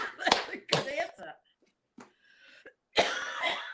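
A short cough bursts out at close range between stretches of conversational talk in an interview, with a couple of brief sharp sounds in the quieter middle.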